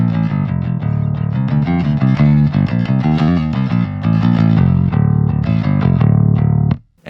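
Clanky rock and metal bass guitar through a 10-inch bass speaker, no distortion, playing a dense run of punchy picked notes alone at steady loudness before cutting off abruptly.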